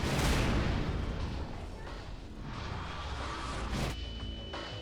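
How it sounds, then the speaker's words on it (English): A Strider in the video game Half-Life 2: Episode One fires at the player, producing heavy booming blasts and rumbling impacts under a thick continuous roar, loud and close. "Stop shooting me, Strider."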